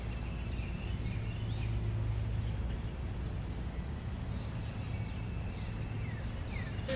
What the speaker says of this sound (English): the sounds of the birds is just so pretty